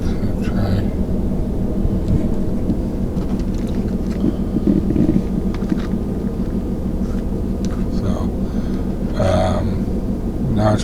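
A car engine runs steadily in a low, continuous rumble throughout, with a person talking over it close by.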